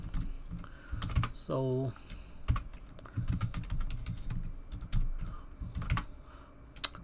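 A password is typed on a computer keyboard in quick, close key clicks with short pauses. Someone speaks briefly partway through.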